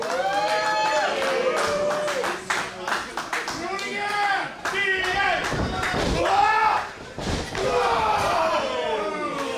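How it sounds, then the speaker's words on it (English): A big wrestler's shoulder tackle slams an opponent onto the mat at a deathmatch wrestling show, heavy thuds and slams ringing out amid crowd noise and commentary over loud, echoing arena ambience. "Huge shoulder tackle."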